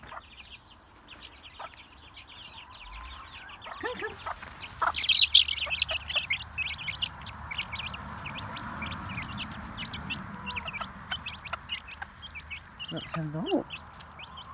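Several chickens cluck and chirp close by, a busy continuous flock chatter with some louder calls, while a person speaks intermittently.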